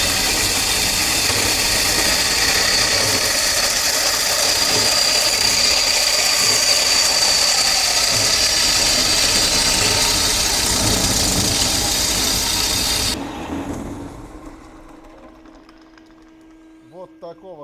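A motorized metal cutting saw slices through a round steel tube clamped in a vise, producing a loud, steady grinding whine with a high ringing tone that runs smoothly for about thirteen seconds, then cuts off and winds down to near silence.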